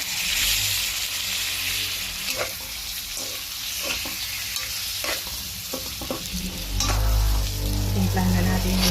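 Shrimp frying in butter and garlic in a pan, a steady close sizzle with stirring scrapes throughout, growing louder and heavier near the end.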